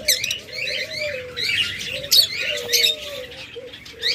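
A pair of lovebirds and other cage birds chirp near at hand in rapid bright tweets and short calls over a soft, steady coo. No talking.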